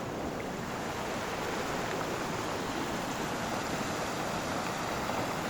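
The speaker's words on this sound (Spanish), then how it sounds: "este río que normalmente era un río seco, hay una cantidad de agua adecuada" The river at Santa Cruz Etla, normally dry, now flowing after heavy rain. Its broad, steady rushing roar carries on without a break and with no voices.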